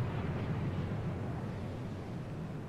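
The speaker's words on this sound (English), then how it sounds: "The vehicle is fully rocket powered" Steady roaring rush of rocket thrusters driving a cable car in Lego Fortnite, a continuous low rumble with hiss that holds level and alone for a few seconds.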